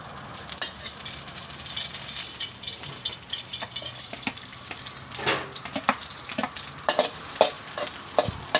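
Chopped garlic frying in pork lard, a steady close sizzle with intermittent scraping strokes from stirring, heard alone with no talk.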